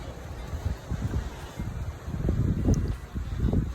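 Wind gusting at a beach resort in Anda, Bohol, a steady rushing roar with buffeting swells against the microphone, no voices.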